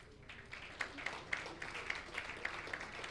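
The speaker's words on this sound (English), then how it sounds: "A round of applause again." A faint, sparse round of applause at a launch event, a handful of separate claps spaced unevenly over a quiet room background.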